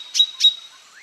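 A cartoon character imitates a bulbul bird's call with two bright, quick chirps in succession, followed by a soft rising whistle, close and clear with no talking.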